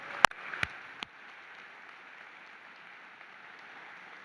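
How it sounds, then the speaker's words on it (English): Applause at a Veterans Day commemoration ceremony: a thin, steady patter of clapping from a crowd, heard at a distance and fairly quiet, with a few sharp knocks near the start. "Big round of applause."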